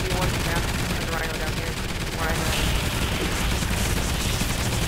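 Sentry guns in Call of Duty: Ghosts Extinction mode fire continuously, a dense, loud rattle of automatic gunfire that fills the whole stretch without pause, with speech buried beneath.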